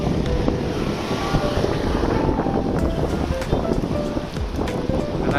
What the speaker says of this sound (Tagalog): Masyadong ang lakas ng hangin.